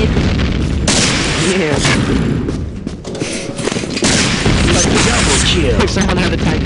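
Grenades go off in a multiplayer shooter game, a run of loud booming explosions and bursts of gunfire filling the scene with a brief lull midway, while a player speaks briefly.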